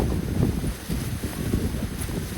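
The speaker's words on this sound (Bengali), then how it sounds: "ভাই, বাতাসটা এত জোশ লাগতেছে।" Steady wind sweeps across a sea beach just after rain, buffeting the microphone with a continuous low roar and rustle.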